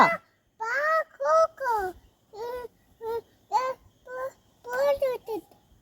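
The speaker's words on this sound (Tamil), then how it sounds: "கோழி குஞ்சு கத்துதுடா" Shrill, repeated chick cries come in short bursts, loud and near, several distinct calls with brief pauses between them.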